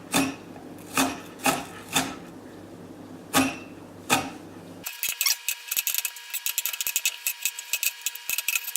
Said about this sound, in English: onions are nice and chopped